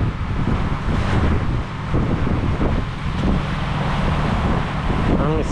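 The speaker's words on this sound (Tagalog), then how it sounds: "Ang makina lang natin gamit mga kabisig ay Isuzu 6HH1." An Isuzu 6HH1 diesel engine drones steadily aboard a fishing boat under way to the fishing ground, a loud, constant low rumble mixed with heavy wind buffeting and water noise, with a voice briefly audible near the end.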